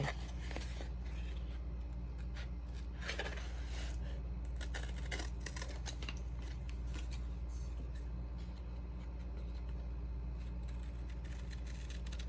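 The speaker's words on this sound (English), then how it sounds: "Use whatever scissors are comfortable for you." Scissors snip through cardstock in faint, repeated cuts over a steady low hum.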